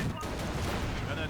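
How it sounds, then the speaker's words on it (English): Sector artillery barrage in the strategy game Company of Heroes: Panzer Elite, a dense continuous roar of overlapping booms and blasts, loud and unbroken for the whole moment. "Sector artillery will destroy the enemy at distance."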